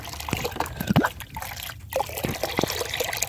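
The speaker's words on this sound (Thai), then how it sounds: "เราจะใส่น้ำยาล้างจานลงไปประมาณ1ช้อนในน้ำยาล้างจาน" Dishwashing liquid, about a spoonful, is poured into water for a garden plant mix, giving a brief close trickle and dribble with small splashy drips.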